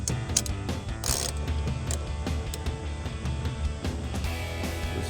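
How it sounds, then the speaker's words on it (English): A 1/2 inch socket ratchet loosens the 10mm bolts on a mirror of a 2013-2018 RAM 1500 pickup, with rapid ratcheting clicks and metallic clatter close up; no speech. "These are 3 10mm bolts that you're going to get off using a socket."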